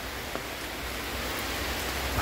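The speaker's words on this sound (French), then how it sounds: "Je me suis fait pogner par une averse" Rain shower falling in Belém, Brazil, heard from a sheltered spot during a cycling trip, a steady dense hiss of rainfall close by without any talk.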